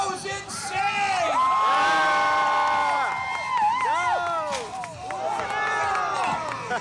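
A jousting tournament crowd roars, whoops and yells loudly and steadily, with a surge at the climax of a pass and voices shouting throughout.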